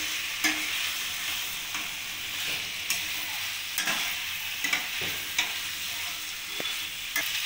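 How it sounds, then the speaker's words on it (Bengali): Fried cauliflower sautéed with spices in a kadai, a continuous close sizzle broken by repeated scraping stirs of a spatula at irregular intervals, with no talking. "ফুলকপিটা মশলার সাথে ভালোভাবে কষিয়ে নেব।"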